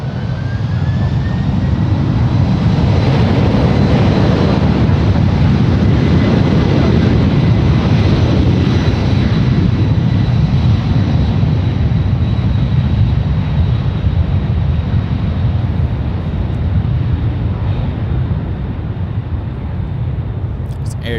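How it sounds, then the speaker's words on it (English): United Airlines 871 Heavy lifts off runway 28 left at San Francisco bound for Taipei, a loud sustained jet roar with rising engine whine that slowly fades near the end, under a voice. "It's United Airlines 871 Heavy, now lifting off 28 left,"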